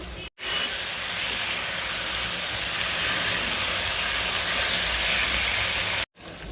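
Onion, coriander, garlic and ginger pastes with potatoes frying in hot oil give a loud, steady, broadband hiss that runs unbroken for about six seconds, close and alone, with brief gaps at each end.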